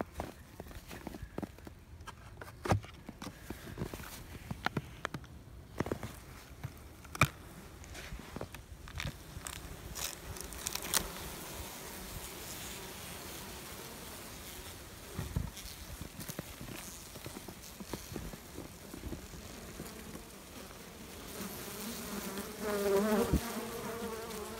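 Honey bees feeding on protein patties inside a hive on a cold snowy day, a close, dense buzzing drone with scattered crackles and shuffling as the colony crawls and works.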